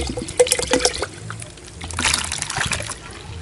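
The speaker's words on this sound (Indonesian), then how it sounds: "Dan kita siram air dari sisa ukuran 2 liter tadi sobat." Water is poured into a blended organic pesticide mixture for chili plants, giving a close trickling and splashing with uneven bursts of sloshing liquid throughout.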